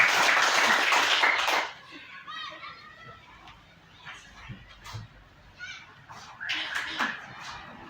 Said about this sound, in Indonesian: Kita beri tepuk tangan untuk Ibu Esther.